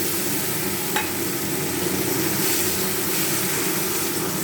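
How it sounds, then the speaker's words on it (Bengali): Chili and tomato paste frying in a pan with cardamom, cloves and cinnamon, a dense continuous sizzle with a brief clink of stirring near the start, close and steady throughout. "এই লঙ্কা আর টমেটোর পেস্টটা দিয়ে দিচ্ছি"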